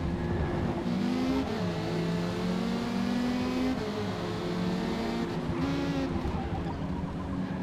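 A racing car engine revs hard in a racing game at the Fujimi Kaido circuit, loud and continuous, with pitch climbing and dropping through gear changes and other cars close by.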